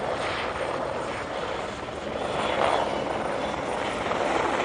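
A police helicopter circles overhead during a security operation, its steady rotor and engine roar continuous and fairly loud throughout, swelling slightly toward the end with no talk.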